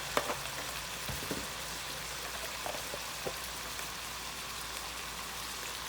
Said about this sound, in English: We're going to sweat our onions.